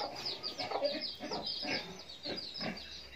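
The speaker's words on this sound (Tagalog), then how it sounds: "Native chicken." Native chickens clucking in a farm coop, several soft repeated clucks and murmurs close by over a low background.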